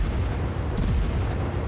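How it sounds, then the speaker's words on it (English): In a naval warship video game, guns fire in a low, continuous rumble of heavy booms under battle noise, steady throughout with a slight bump in the middle. "And now I'm able to work on him with my guns."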